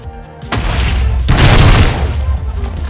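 A Greymon explosion in the Minecraft Digimobs game, with a sharp blast at about half a second and then a second, louder rumbling burst that swells and slowly fades. It is close, heavy and booming.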